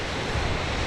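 A waterfall on a Scottish hillside path gives a steady, broadband rushing roar heard from a short distance, with faint wind buffeting the microphone and no talk.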